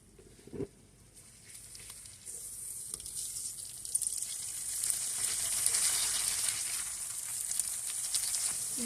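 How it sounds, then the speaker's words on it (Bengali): Spice paste sizzling in a pan as chopped green chilies go in, while cooking hilsa fish with mustard paste, taro and eggplant; a clunk early on, then a frying hiss that swells and stays loud and close. "মশলাগুলো ভালো করে কষিয়ে নেব এখন দিয়ে দিব কেটে রাখা কাঁচা ঝাল"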